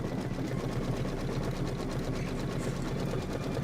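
A Kimberbell sewing machine stitches an applique quilt block with a steady, continuous mechanical whir that stays dense and even throughout, close up and alone.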